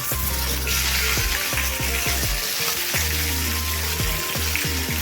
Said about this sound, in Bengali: একদিক ভাজা হয়ে গেলে উল্টে অপোজিট দিকেও ভেজে নেব।